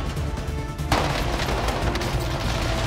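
Guns firing in Warzone, a loud close burst of automatic gunfire that kicks in about a second in and keeps rattling steadily to the end.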